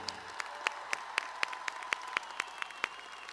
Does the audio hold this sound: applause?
yes